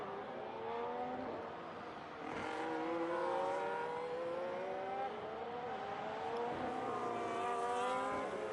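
A race car in a racing video game at Singapore, engine revving under heavy throttle with rising and falling pitch sweeps as it accelerates and shifts, steady and loud throughout with no talk.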